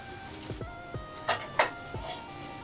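Hamburger steak patty frying in a pan in a Western-style restaurant kitchen, a steady sizzle with several short, crisp pops and spits close by, no talking.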